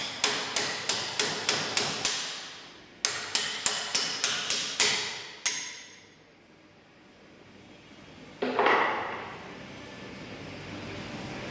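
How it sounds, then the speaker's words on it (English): Two bursts of sharp metallic hammer strikes knocking a bolt into an Al-Ko AKS 3004 caravan stabiliser head, about six to seven evenly spaced blows each, then a single hit, followed by quieter shuffling handling noise. "using a hammer, knock the bolt in, knocking the pin out the other side."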